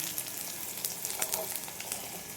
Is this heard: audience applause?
no